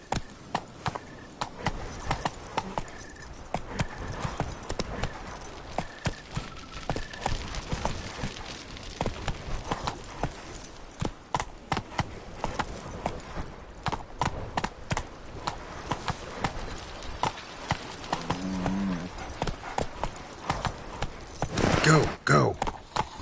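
The horse Roach gallops at a steady clip-clop pace in The Witcher 3, with a rider calling out now and then over the rhythmic hoofbeats.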